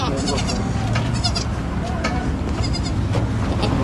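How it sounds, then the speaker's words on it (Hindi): Goats bleat repeatedly as they are unloaded from a vehicle at a farm, several close, overlapping calls over the bustle of people talking nearby. "तो बकरी अनलोड हो गई है"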